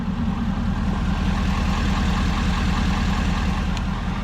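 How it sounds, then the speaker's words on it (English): A 2021 Ford F450 Platinum diesel pickup fitted with a Banks air intake idles close by, a steady, deep rumbling drone with an even pulsing throb and no talk. "I've got the Banks air intake in this, so it definitely sounds a bit better."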